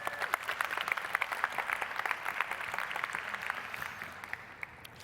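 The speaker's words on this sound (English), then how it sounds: "Round of applause for him." Audience applause at a Tech Inclusion conference main stage in San Francisco, dense clapping throughout, moderately distant and gradually fading toward the end.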